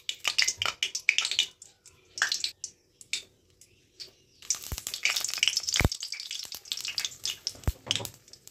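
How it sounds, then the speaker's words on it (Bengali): Dried red chillies and cumin seeds crackle and sizzle in hot oil in a wok, coming in uneven bursts of spitting and popping with short quiet gaps and a few sharp taps. "কড়াইতে তেল দিলাম, দুটো শুকনো লঙ্কা আর 1/2 চামচ জিরে ফোড়ন দিলাম।"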